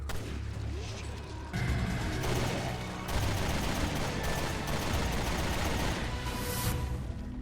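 Hand cannon gunfire in the video game Resident Evil: Revelations 2, loud heavy booming shots in quick succession amid dense game noise, with no pause between blasts.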